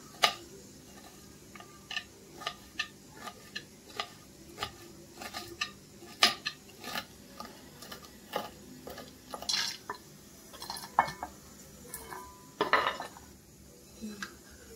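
A sharp knife finely chops vegetables for spring rolls on a board, producing crisp, close taps in an uneven rhythm, some quick and some spaced apart, with no voices.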